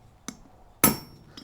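A hammer strikes a steel center punch to mark metal for drilling. Three sharp metallic taps ring out close by: a light one, a much heavier ringing blow, then another light tap.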